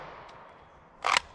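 A single sharp handgun shot from a 357 SIG, heard at some distance against faint background noise, one brief crack near the end.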